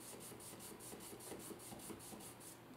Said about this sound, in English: I've got some 400 grade sandpaper here, and the method for this is as such, dry like this, and just sand it back and forth a little bit